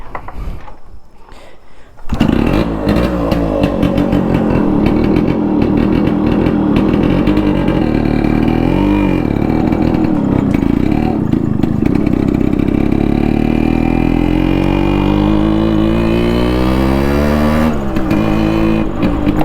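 A Yamaha RX100 motorcycle engine starts up and revs loudly and continuously up close, its pitch rising and falling as the throttle is worked.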